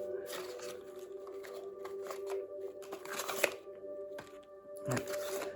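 Witches' tarot cards are shuffled and laid out, giving soft papery riffles and flicks in bursts with small slaps, heard close and fairly quiet over a steady background hum.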